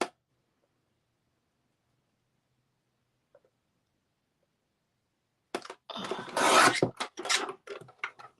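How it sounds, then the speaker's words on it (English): The silver blade edge of a paper trimmer cuts a 1-inch strip of card. After a long silence comes a short, close, rasping slide. "I'm using the silver edge of my trimmer."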